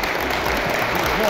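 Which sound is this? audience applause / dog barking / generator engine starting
audience applause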